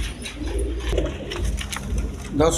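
Fancy pigeons coo nearby in a breeding loft, soft throaty rolling calls repeating over a low murmur, with a faint voice in the background.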